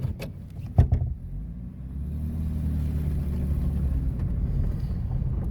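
A vintage Packard car drives slowly, its low engine rumble building to a steady close hum after a few brief knocks and clunks at the start.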